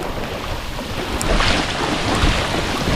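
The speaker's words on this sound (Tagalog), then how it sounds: "Ayan, lakas ng ulan." Heavy, steady downpour roaring close by with a deep rumble underneath, like rain pounding hard with distant thunder, no voices.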